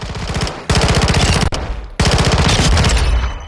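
Automatic weapon fire from Call of Duty Modern Warfare II, a 5.7x28 gun unleashing loud, close rapid bursts with brief pauses between strings of shots.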